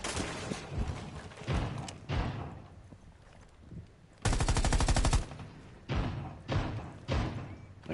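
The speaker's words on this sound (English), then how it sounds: "They're shooting from above, so we might have to just make a rotate" Gunfire in Rainbow Six Siege coming from above, with a few heavy muffled shots and one sustained loud automatic burst partway through, followed by several more separate thumping bursts.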